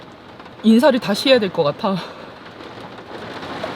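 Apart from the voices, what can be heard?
sudden heavy rain shower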